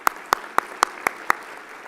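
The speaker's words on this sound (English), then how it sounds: "how about a round of applause for educators?" Six sharp, evenly spaced claps ring out at a high school commencement ceremony, close and clear, a brief rhythmic clapping rather than a full crowd roar.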